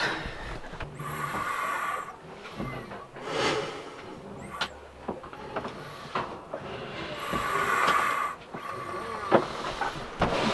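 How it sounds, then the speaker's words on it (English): A rhythmic, hissing, breath-like whoosh rises and falls from a sink drain on a sailboat, slow wheezy pulses repeating with faint mechanical rattles, no one speaking. "Our sink's breathing."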